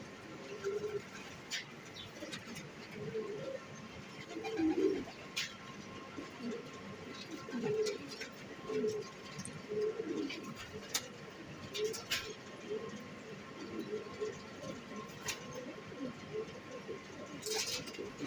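Pigeons coo repeatedly in soft, low, throaty phrases, fairly close, with scattered chirps and faint background noise throughout.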